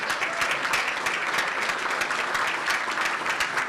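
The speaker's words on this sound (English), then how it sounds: "a big round of applause for the Senator's parents" A luncheon audience at a St. Patrick's Day event applauds the Senator's parents, steady dense clapping filling the room throughout without a break.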